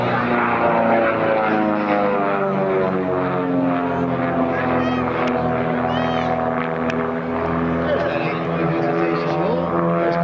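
A Cessna Skymaster comes in to land at an air force base air show, its propeller engines giving a steady, harmonic drone that holds strong throughout, heard from a moderate distance.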